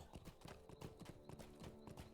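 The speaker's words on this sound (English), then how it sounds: "we can ride our horse now" Horse hooves clip-clopping in the Lord of the Rings Online game, a quick, even run of about a dozen hoofbeats on hard ground, faint and alone.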